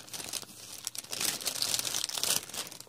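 Plastic saran wrap being carefully peeled off a napkin, giving a close, continuous crackling crinkle that swells louder through the middle and fades toward the end, heard alone.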